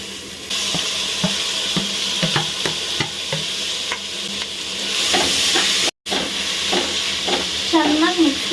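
Spoon scraping and stirring tomatoes and chicken in a hot frying pan for chicken biryani, with a steady sizzle and repeated clinking strokes throughout, close and fairly loud, with a short break near the end.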